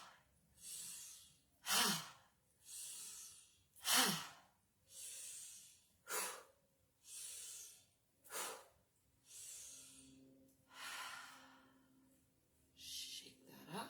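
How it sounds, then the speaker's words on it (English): Slow, deep breaths during a stretching exercise come close and alone: about eleven long inhales and exhales in a steady rhythm, each a soft airy rush, some ending in a louder sigh. "I'm going to do a little more breathing and dropping the arms"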